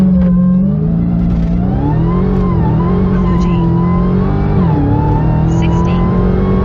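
A 2021 Dodge Charger Hellcat Widebody Redeye on Toyo R888R tyres holds its engine at launch-control revs with the brake on. The loud, steady, close engine drone wavers slightly in pitch, and a voice speaks over it.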